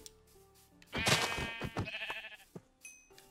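Sheep bleat in the Minecraft video game, a series of loud, wavering game-animal bleats up close, followed by a couple of shorter softer calls and light in-game clicks.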